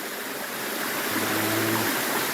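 Water rushing through a rocky stream channel where the flow is split by a small dam, a steady close hiss of flow with a faint low tonal hum joining midway.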